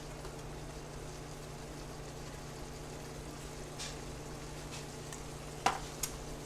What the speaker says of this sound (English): And we're going to start stirring that around and let it cook up good.